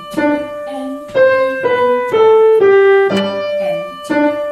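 Piano plays a piece from a piano method book, a short, steady run of clear melody notes over lower accompanying tones, close and moderately loud, with no voices.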